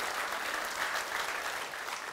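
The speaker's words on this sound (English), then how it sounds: "give him a round of applause for that" Steady applause from a conference audience welcoming a first-time speaker, a dense even clatter of many hands held at one level throughout with no voices over it.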